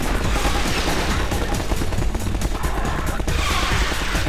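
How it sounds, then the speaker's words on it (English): Dense, continuous gunfire from a Half-Life 2 firefight, rapid overlapping shots and bursts packed tightly together at steady loudness throughout, with no pauses and no speech. "Oh, shooting at me again."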